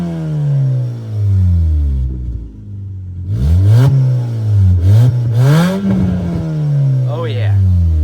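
A 2011 Ford Fusion with a gutted catalytic converter revs loudly up close, its engine note rising and falling through several throttle blips. A person talks over it.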